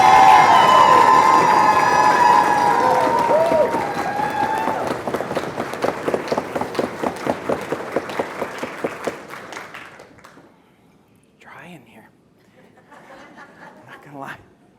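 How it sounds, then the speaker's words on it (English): Nurses' meeting audience clapping hands and banging tables, a loud roar of applause and cheers that settles into rhythmic unison pounding, then stops abruptly, leaving scattered laughter and murmurs. "If you're with me, bang the tables, clap your hands."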